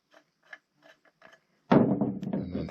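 Worn brass threaded piece being unscrewed from a steel rod on a cheap Chinese sawmill: a few faint, spaced metallic clicks and scrapes, then a sudden louder burst of grinding, rattling metal up close.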